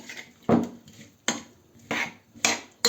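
A utensil knocks and scrapes against a bowl of smashed radishes in a steady rhythm of five sharp clacks, close and quiet, with no talking.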